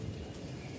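Giribaz high-flying pigeons coo softly in a brief, faint, low murmur against a steady background hum.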